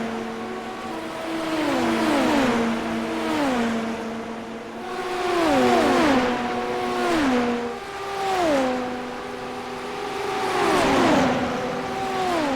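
Super Formula race car engine in the iRacing sim at Fuji International, screaming loud and near through repeated upshifts and revs, with several rising and falling engine tones from nearby cars in the draft and no talk.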